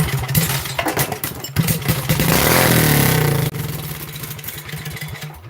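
A cheap junk motorcycle engine runs with no muffler fitted, blasting a loud raw exhaust with rapid clattering firing pulses and a surging rev in the middle, close by with no talk.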